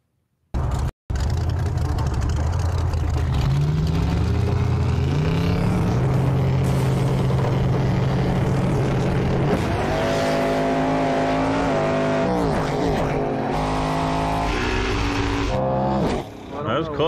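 Drag race cars launch and roar down the strip at a Mega Cash Days event, loud sustained engine howl rising in pitch as the cars accelerate, heard as played back from race footage after a brief pause.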